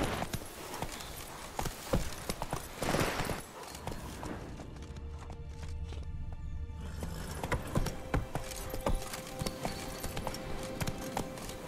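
Roach, a horse in The Witcher 3: Blood and Wine, trots along with a steady, close clip-clop of hooves, the rhythmic beats continuing throughout with a brief quieter stretch in the middle.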